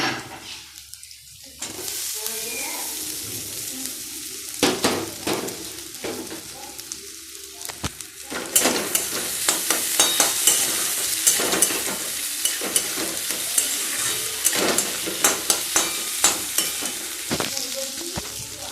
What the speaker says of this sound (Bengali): এটা যেটা ভাজছি, এটা বাটার দিয়ে ভাজছি, মানে তেল দিয়েছি একটুখানি, 1 চামচও না, 1/2 চামচ, আর বাটার দিয়েছি।